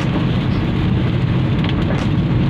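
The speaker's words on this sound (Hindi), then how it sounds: "आज बारिश वैसे बहुत ज़्यादा हो रही" Heavy rain pouring steadily outdoors, a dense continuous hiss and patter that stays loud and unbroken throughout with no voices.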